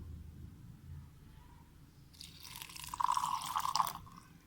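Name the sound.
pouring a little water into chutney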